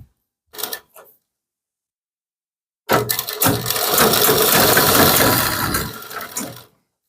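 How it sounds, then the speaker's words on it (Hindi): A sewing machine stitches kurti fabric: a short burst of clattering, then after a pause a sustained run of rapid mechanical stitching lasting about four seconds before stopping, close and loud. "अब ये दूसरी साइड इस तरह से ऐसे मोड़ लेना है कपड़े को और सिलाई लगाना है।"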